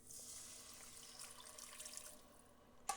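Water poured from a container into a cooking pot of pastalaya, a steady close hissing stream running for a few seconds before a brief clatter at the end.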